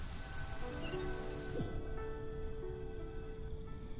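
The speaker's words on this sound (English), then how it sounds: "And it's raining." Steady soft rainfall in the Genshin Impact video game, a continuous gentle patter with a faint tonal game background, quiet and unbroken throughout.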